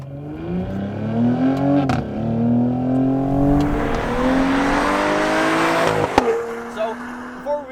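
A Cadillac CT5-V, a loud 360-horsepower all-wheel-drive sedan, accelerates on a drive, its engine note climbing through the gears with brief dips at the shifts, close and prominent, with some talking underneath.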